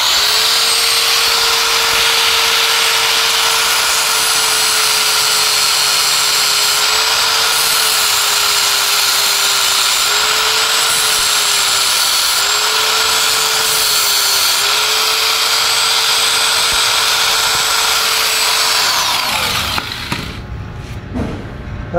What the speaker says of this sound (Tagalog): Delikado na tong grinder na to, kumakagat na.